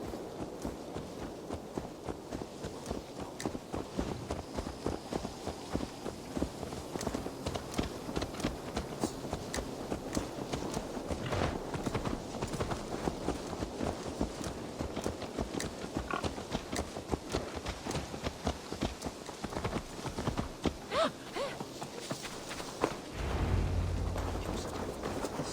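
Horse hooves clip-clop at a steady trot in Assassin's Creed Valhalla, a continuous run of close, rhythmic thuds with a brief low rumble near the end.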